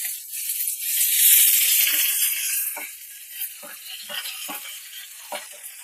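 Long beans, already fried, tumble into a pan of hot spices with green chilli and nigella seeds, giving a loud sizzle that eases into steady frying with several scraping stirs near the end.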